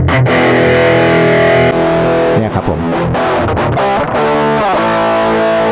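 Loud distorted electric guitar chords played through a Hotone Omni IR cab loader ring out and are restruck several times, with someone speaking briefly near the start.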